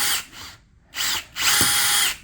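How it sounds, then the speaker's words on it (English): A power drill running in reverse to loosen a strut bolt on a 2014-2019 Cadillac CTS, in three close, loud whirring bursts of increasing length with short pauses between them. "Again, the drill is in reverse."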